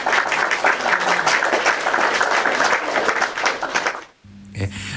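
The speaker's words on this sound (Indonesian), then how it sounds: "Sekali lagi tepuk tangan." Audience applause for the young Dangdut Akademi 7 performers after a Nusantara dance, sustained dense clapping for about four seconds that cuts off abruptly into a quiet room tone with a low hum.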